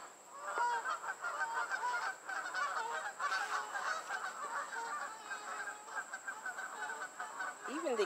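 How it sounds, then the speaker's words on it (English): A flock of geese honk continuously and fairly loudly outdoors, overlapping calls forming a busy, steady chorus throughout with no talk. "Even the geese approve."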